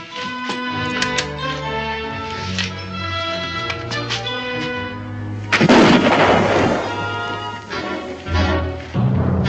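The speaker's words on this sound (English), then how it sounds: "Mr. Tanner, no more shooting!" Gunfire rings out in a TV western set in frontier woods, a loud burst of shots and booming blasts cutting in midway over a sustained dramatic orchestral score.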